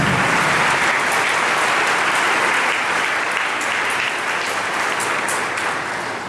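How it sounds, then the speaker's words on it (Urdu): A church congregation breaks into sustained, loud applause during an Ascension sermon, a dense wash of clapping that fills the room evenly and fades only slightly over several seconds. "آئے اس فتح مندی کے لیے زوردار تالیاں بجاتے ہیں۔"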